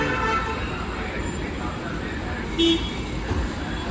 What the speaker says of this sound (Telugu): వచ్చేసింది మన కారు వచ్చేసింది.